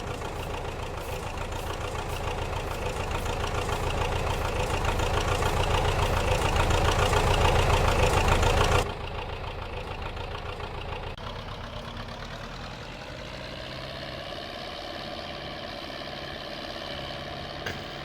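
A tractor engine in Farming Simulator 22 rumbles steadily, growing louder, then drops abruptly to a quieter, lower idle that continues evenly to the end.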